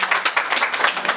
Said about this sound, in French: Waouh, on applaudit